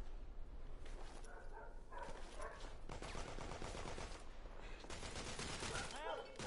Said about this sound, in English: Why did I shoot the other dude?